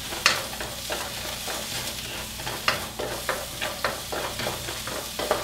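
Carrots stir-fried in a very hot pan for a healthy vegan peanut butter stir fry, giving a steady sizzle broken by repeated scraping stirs, close and fairly loud, with no talking.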